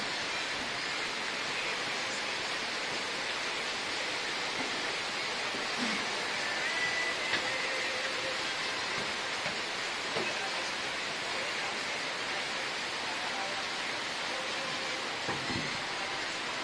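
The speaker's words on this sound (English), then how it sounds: "Rainy day in the jungle." Steady rain falling over jungle in Ecuador, a dense continuous hiss of drops on foliage and surfaces with no breaks, fairly soft and even throughout, a few faint distant knocks and chirps buried in the wash.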